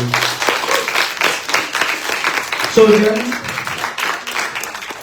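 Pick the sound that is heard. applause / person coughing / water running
applause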